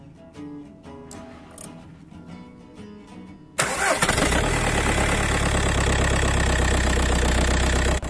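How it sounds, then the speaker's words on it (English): A Skoda Fabia is cranked and fires abruptly partway through, following quieter shop background, then settles into a loud, steady idle close by with a continuous low rumble. "Turn the engine on."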